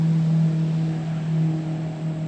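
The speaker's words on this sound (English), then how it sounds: "That's a big boat." A big boat moving along a river sends out a steady, loud low engine drone with a strong hum, swelling and easing slightly as it passes nearby, with no talking over it.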